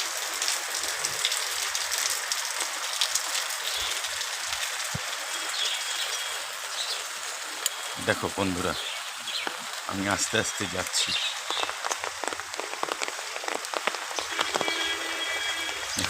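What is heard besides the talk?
rain falling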